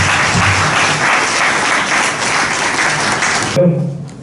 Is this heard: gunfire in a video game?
no